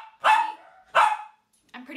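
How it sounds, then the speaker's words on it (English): A dog barks twice in sharp, loud close bursts about a second apart, followed by a shorter, softer yelp-like sound. "That's my dog"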